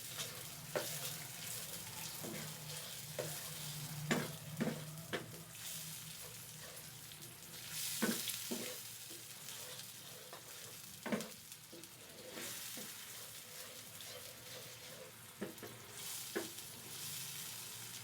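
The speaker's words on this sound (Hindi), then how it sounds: "अब हम मसालों को इसमें ऐड कर देंगे और अच्छे से मिक्स करेंगे" Turmeric, garam masala and cumin are stirred into a frying masala base for egg curry, producing a quiet, steady sizzle broken by repeated spoon scrapes and knocks against the pan.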